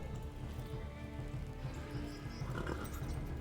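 A horse gallops in the medieval game Kingdom Come: Deliverance 2, its hoofbeats blending into a dense, continuous rumble under ambient game sound. Fairly faint, with no distinct pauses in the stride.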